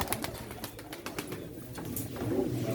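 Pigeons cooing at a pigeon auction in Çorum, Turkey, soft murmuring coos amid faint background bustle.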